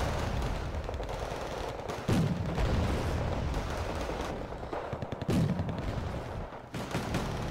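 Rifle and machine-gun fire in a World War II strategy video game, with dense, continuous bursts of shots and blasts, loud and close throughout, mixed with explosions and no talk over it.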